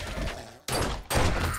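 Gunfire in the zombie survival game 7 Days To Die: two loud, abrupt broadband bursts, each cutting in sharply and then trailing off into a dense, rumbling tail, with a short gap between them.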